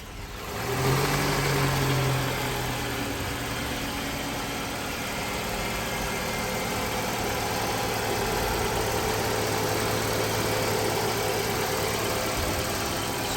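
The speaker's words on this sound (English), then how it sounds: "So now we're running the vehicle." A 2001 Toyota RAV4 with a power steering fault idles close by with a steady, even engine hum. Nobody speaks over it.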